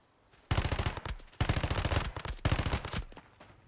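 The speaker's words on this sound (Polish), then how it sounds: "A jak ta broń strzela?" Rapid automatic gunfire from a weapon in the survival shooter Once Human, three dense bursts of shots separated by brief pauses, loud and close with no talking.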